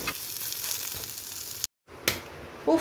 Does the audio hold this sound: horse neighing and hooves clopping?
no